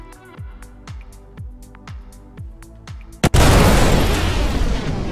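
Missile explosions from six S4 missiles strike a ship in Star Citizen: a run of deep booming hits in regular succession, followed by a sudden loud, sustained roar of blast noise.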